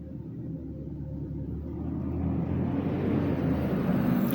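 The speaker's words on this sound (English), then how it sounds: "I hear a truck coming." A truck approaches on a nearby road, its low engine rumble building steadily and growing louder toward the end, with no talking over it.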